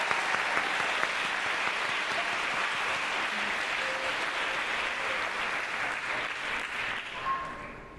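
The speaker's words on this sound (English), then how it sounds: "please give a big applause, round of applause for this" A concert audience at an arangetram recital gives the singers long, steady applause that tapers slightly near the end.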